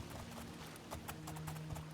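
Horse hooves gallop across water in the video game Oblivion, a quick, even clip-clop rhythm that sounds near and moderately loud, with no voices over it.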